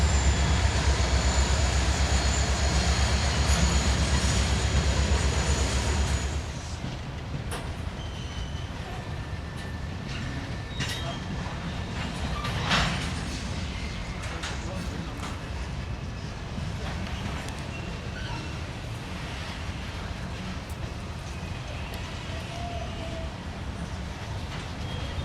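Switcher locomotives gather up freight cars for an eastbound train at Avon Yard west of Indianapolis, a steady rumble of rail equipment that is loud for the first few seconds and then settles to a lower, continuous yard noise with faint squeals.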